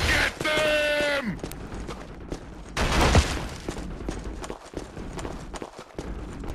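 Gunfire crackles in a Killzone firefight, with bursts of sharp shots mixed with footsteps and shouted voices amid the chaos.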